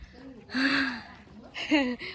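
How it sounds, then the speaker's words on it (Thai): Heavy panting after dance practice, a couple of loud breathy gasps close up, with voiced sighing and breath sounds running through them. "หอบเลย"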